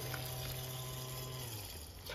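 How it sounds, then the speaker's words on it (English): A SHYSKY DC60G-24120S small DC water pump running dry with no water inside, giving a steady, even whine with a constant tonal hum and no change in level, heard alone. "Now, this pump is without water. The rotor side within will dry run."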